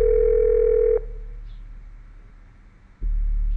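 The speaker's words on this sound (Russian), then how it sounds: "Ну уже возьми трубку." A phone ringback tone in the video game Heirs: one sustained electronic ring lasting about a second, then a pause of near silence before the next tone starts.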